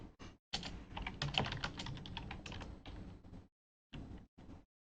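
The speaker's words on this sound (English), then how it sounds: "I think you're typing a little faster than your fingers want to go." Fast typing on a computer keyboard while writing C# code, dense clattering keystrokes in bursts with short pauses, close and fairly quiet.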